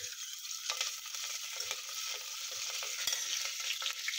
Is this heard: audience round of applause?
no